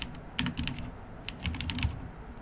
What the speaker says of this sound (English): I will type improve